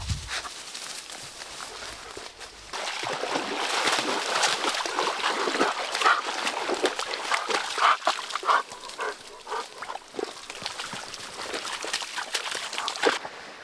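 Dogs barking at a roadside stop along the Glenn Highway near Glacier View, Alaska, with repeated barks and some whimpering over steady background noise and footsteps.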